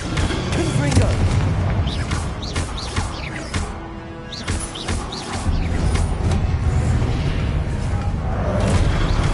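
Booming blasts from the Confringo blasting curse in a Harry Potter game, several loud explosions and crashes in quick succession amid shouted spell names and other spell effects.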